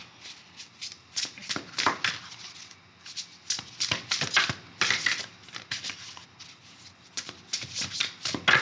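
Oracle cards being shuffled by hand, a run of quick crisp riffling and flicking bursts in uneven clusters, close and fairly soft, with no talking.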